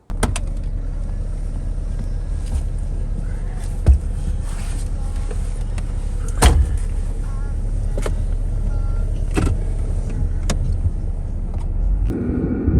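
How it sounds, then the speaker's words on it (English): Recently refurbished 1992 old-school American pickup truck driving on snowy Arctic roads near Tromsø, a steady low engine and road rumble heard from inside the cab, broken by occasional clicks and knocks, with no talking. "taken there with an old school American pickup truck"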